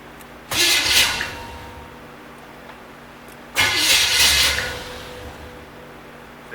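A 1972 Corvette engine, long abandoned in a field and not attached to its transmission, cranks over in two separate bursts, each a loud churning starter grind lasting about a second and a half, with a quieter hum between them.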